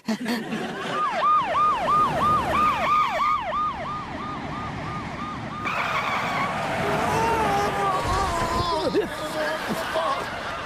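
An ambulance siren wails in rapid repeated rising-and-falling sweeps, loud and close, then continues more unevenly over vehicle noise.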